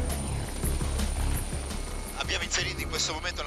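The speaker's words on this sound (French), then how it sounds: "c'est l'hélicoptère qui nous conduit au-dessus de la zone de recherche" AgustaWestland search-and-rescue helicopter flying on autopilot over a search zone, a steady low rotor and engine drone running throughout, with voices talking over it in the second half.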